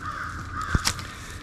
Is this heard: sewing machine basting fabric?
no